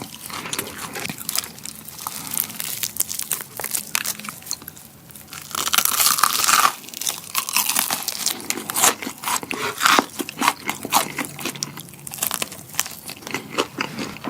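Crunchy fried chicken, tomato-flavored, bitten and chewed up close with loud crackling crunches and rustling, repeated bites and chewing through the whole stretch, no talking.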